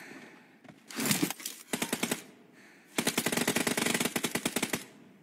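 Video game machine gun fire in a team deathmatch: a short burst, then a second quick volley, then a pause, then a longer sustained stream of rapid, evenly spaced shots that trails off into single pops.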